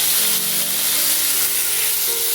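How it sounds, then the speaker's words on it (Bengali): A steady, loud sizzling hiss of ridge gourd frying in hot oil over high flame, continuous throughout with faint tonal hum underneath. "গ্যাসের ফ্লেমটা একটু হাইতে রেখে ঝিমেগুলো ভেজে নিচ্ছি"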